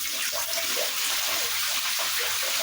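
Water pours steadily into a bathtub, a constant close rushing hiss with faint bubbling and no voices.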